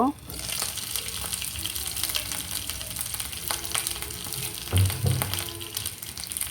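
Banana peel fritters fry in a covered pan over a medium flame, giving a steady, close, dense sizzle and crackle that runs unbroken, with a few brief louder pops near the end.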